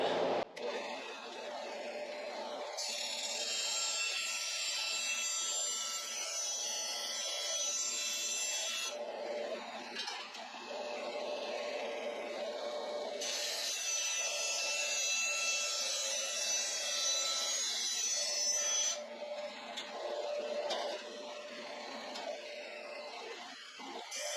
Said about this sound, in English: Let's go cut a patch panel.